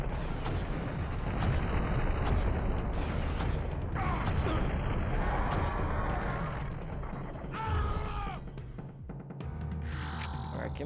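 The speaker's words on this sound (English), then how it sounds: "Fusion cannon." A fusion cannon firing in the Nintendo 64 shooter Turok: Dinosaur Hunter, giving a heavy rumbling blast followed by echoing booms and mechanical clatter, loud and sustained against game sounds.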